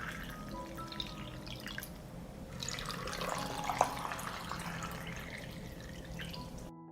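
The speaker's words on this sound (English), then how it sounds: "Jars full of water. The water must cover the apricots." Water trickles and drips into glass canning jars packed with apricots, a soft steady pouring with small splashes, quiet and close, with no talk.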